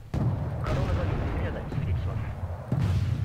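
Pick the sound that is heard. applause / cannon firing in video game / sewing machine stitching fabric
cannon firing in video game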